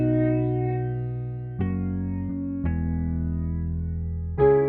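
Guitar tone from FL Studio played through an effects mixer with chorus and echo, layered with a piano: sustained chords changing every second or so, with fresh attacks at roughly 1.6, 2.6 and 4.4 seconds.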